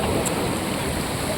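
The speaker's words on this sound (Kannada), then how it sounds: "ನೋಡ್ರಿ ಅಲೆಗಳು ಭಾಳ ದೊಡ್ಡದವು." Sea waves rolling onto a beach at Alleppey, Kerala, heard as a steady, close, broadband wash of surf without a clear break, with no voices over it.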